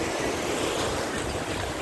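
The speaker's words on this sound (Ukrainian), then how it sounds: "Один з найкращих великих пляжів" Sea surf rolls steadily onto a big public beach at Vidrada in Odesa on a warm late-summer day, a constant close wash of broken waves and wind with no clear voices picked out.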